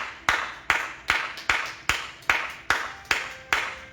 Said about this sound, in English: Clap your hands for Jesus.